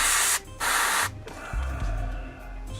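An airbrush sprays paint onto a wargaming miniature in two loud, close bursts of hissing air separated by a short gap, then a quieter mechanical hum with faint rattling and no voices.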